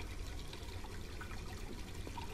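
Scalding hot water runs into a bathtub in the Black Mirror 2 game, a steady, fairly quiet rushing flow that continues evenly with no break.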